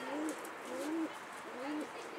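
A pigeon or dove coos near a mosque minaret, three soft repeated rising calls heard at a moderate distance over faint background noise, with nobody talking during the calls.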